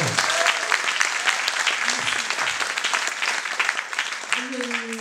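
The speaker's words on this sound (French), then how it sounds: "Anne-Jo, s'il vous plaît, on peut l'applaudir très fort." A festival audience applauds loudly in a continuous, dense burst of clapping, with a few voices audible beneath it and a person speaking near the end.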